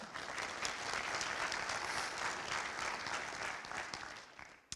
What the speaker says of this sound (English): I was going to say to hold your applause until after everybody had been introduced